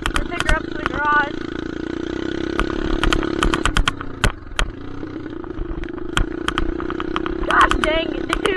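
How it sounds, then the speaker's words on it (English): Dirt bike engine running with a straight pipe and no muffler, a loud close idle with sharp rattling pops and brief revs, people talking over it. "If you're wondering what it sounded like straight pipe, here it is."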